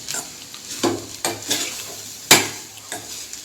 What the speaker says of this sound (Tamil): இப்போ போட்டு நல்லா கிளறிக்கலாம்